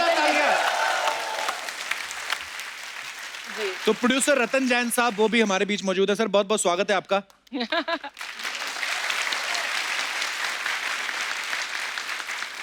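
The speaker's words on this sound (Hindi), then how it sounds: "जोरदार तालियां" Audience applause at a Hindi comedy show, heard at the start and again after a stretch where someone speaks over the room, the clapping returning as a steady wash to the end.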